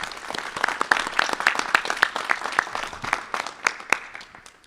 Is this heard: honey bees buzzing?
no